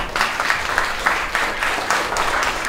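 Children clap in a short round of applause, a brief patter of hands with several soft rhythmic swells, close and moderately loud.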